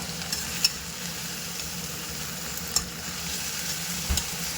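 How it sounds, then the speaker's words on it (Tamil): Blood gravy frying in a pan gives a steady low sizzle, with a few sharp clinks of a spoon as it is stirred, close and even throughout, with no voices. "நம்ம கைவிடாமே இந்த மாதிரி நல்லா ஃப்ரை பண்ணி எடுத்துக்கலாம்"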